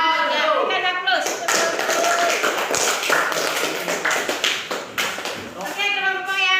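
An audience claps in a room, a dense burst of applause that starts after a moment of speech, holds for several seconds and then tapers as a voice returns at the end.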